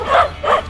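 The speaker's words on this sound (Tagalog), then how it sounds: "Dami namang aso." Two short, close barks from a dog ring out in quick succession, loud and clear with a brief gap between them.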